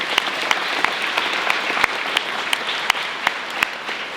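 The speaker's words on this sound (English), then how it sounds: "Give them a clap." Audience applause for debate speakers being introduced at a motion debate, a steady dense wash of many hands clapping with a few sharper claps standing out, sustained throughout with no talk over it.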